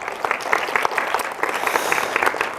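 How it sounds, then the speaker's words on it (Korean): Applause from a university lecture audience greeting a business-major student, many hands clapping steadily for a couple of seconds at moderate loudness, with faint background talk. "학우에게 박수 부탁드리겠습니다."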